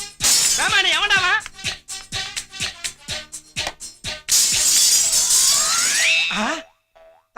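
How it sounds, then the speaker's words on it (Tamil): A glass window shatters in a comedy sketch. A loud, bright crash of breaking glass rings out for about two seconds, preceded by springy boing effects and voices talking. "இந்த ஜன்னல் உடைஞ்சிடுச்சே."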